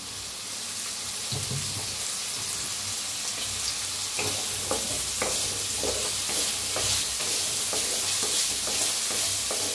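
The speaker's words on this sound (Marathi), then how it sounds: "आता ह्याच्यात वतूया तेल, थोडंसं तेल वतून भाजून घेऊया।" Potato pieces roast and sizzle in a little oil in a pan, a steady frying hiss broken by stirring scrapes and clicks that continue throughout at a close, even level.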